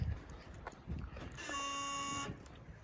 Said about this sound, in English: door buzzer works, the key, horn works